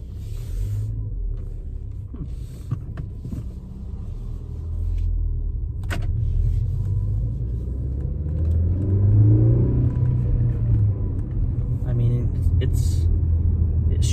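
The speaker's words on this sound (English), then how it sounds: "we're gonna go for a little test drive real quick to see how this clutch spring feels" A Ford Focus ST with a newly installed Steeda clutch spring on a test drive: steady low engine rumble rising as it accelerates, heard from inside the cabin while people talk over it.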